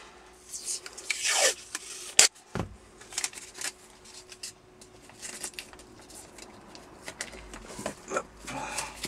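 A sticker being scraped flat onto a sun-heated surface to make it hold, giving dry rasping rubs in short bursts with one sharp knock, close and moderately loud, with no talking.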